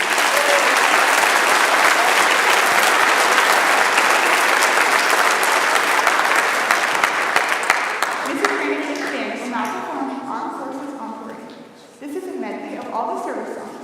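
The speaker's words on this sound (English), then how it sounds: "Let's give them another round of applause." An audience at a high school Veterans Day program gives a long, full round of applause that fades after about eight seconds, giving way to a voice talking over the dying claps.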